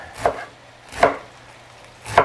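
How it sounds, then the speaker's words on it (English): A knife cutting pork into chunks on a board, three distinct sharp chopping strikes at a slow, even pace, close and clear with quiet between them. "I just want to run the knife through it like that."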